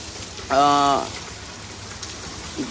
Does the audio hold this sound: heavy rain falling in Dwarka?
yes